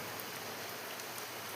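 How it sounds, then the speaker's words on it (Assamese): Heavy monsoon rain pouring down from above, a steady dense hiss with faint scattered drop impacts, continuous and unbroken, heard alone. "ওপৰৰ পৰা বৰষুণ পৰি আছে চব"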